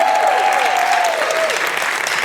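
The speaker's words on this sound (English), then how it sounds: "Let's give them a round of applause, okay?" Cabaret audience at a LaGuardia class of 1986 reunion breaks into dense, loud applause, with a voice briefly calling out over the clapping near the start.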